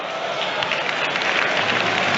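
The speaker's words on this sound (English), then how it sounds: "Applause from the Sheffield Wednesday fans in the main stand" Steady applause from Sheffield Wednesday football fans in the main stand of a stadium during an FA Cup match against Newcastle United, a dense, continuous wash of clapping that fills the whole stretch at full level.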